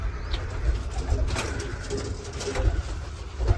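Two black pigeons coo close by on a small pigeon and chicken farm, a steady, fairly loud murmur of repeated low coos with faint chirps, and no one speaking.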